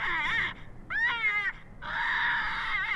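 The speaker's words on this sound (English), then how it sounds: "I cranked the old lightning jack on the Fury, max the volume" An Idaho jackrabbit distress call blares at maximum volume from a FoxPro Fury electronic caller: three wavering, high-pitched wailing cries, the first and last long and the middle one shorter, with brief gaps between them.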